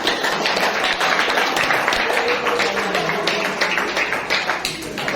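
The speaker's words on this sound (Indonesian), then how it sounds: "Tepuk tangan kita semua." A class of students claps together in a room, a steady dense patter of many hands lasting several seconds, with faint voices mixed in.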